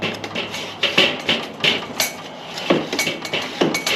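Scraping and tapping on a Weber grill grate, a quick series of metallic clinks and raspy scrapes in an irregular rhythm, close and moderately loud, with no talking.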